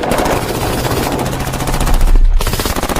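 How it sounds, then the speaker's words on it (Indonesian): Rapid automatic gunfire from soldiers shooting at a mysterious light in a film, dense repeated bursts filling the whole stretch loudly with no pauses. "Si ketua dan anak buah pun langsung menembaki cahaya tersebut"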